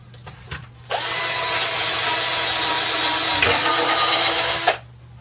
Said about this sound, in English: We're going to drill through these corners so we can grab that plywood.